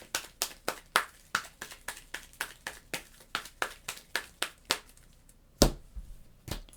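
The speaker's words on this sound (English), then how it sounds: "We're going to shuffle up." Marvel Champions cards being riffle-shuffled in a quick series of about sixteen crisp, evenly spaced snaps, close and fairly loud, ending with a couple of sharper, heavier knocks.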